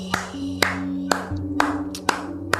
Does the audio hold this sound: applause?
yes